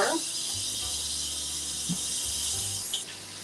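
Water runs steadily from a kitchen tap while hands are washed beneath it, a constant broadband hiss with a few small splashes and knocks near the sink, close and continuous.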